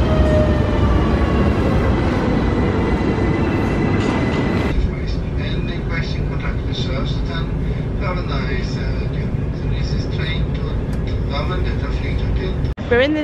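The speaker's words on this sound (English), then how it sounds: "We're in the train station" Inside a train station, steady rumble of a passing train fills the space, with a sharp change partway through and voices talking over the continuous rail noise.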